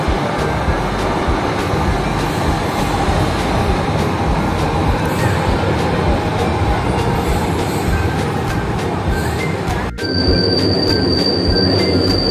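Steady rumble and rattle from inside a moving LRT light rail train in Palembang, Indonesia, wheels and cabin noise continuous, with a brief electronic tone near the end.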